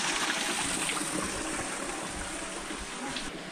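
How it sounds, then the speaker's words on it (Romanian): Small garden waterfall in a guesthouse courtyard, giving a steady soft rush of falling water with no breaks, fairly quiet and heard on its own. "Avem aici o mică cascadă."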